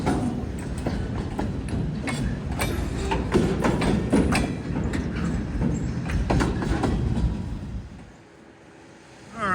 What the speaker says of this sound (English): the train has just arrived